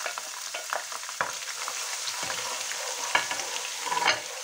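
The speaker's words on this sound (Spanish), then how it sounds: "Y ya vamos aquí haciendo el sofrito." Carrot and bay leaf sofrito frying in a pan, with a constant crackling sizzle and occasional scraping stirs of a utensil, close and steady with no voices.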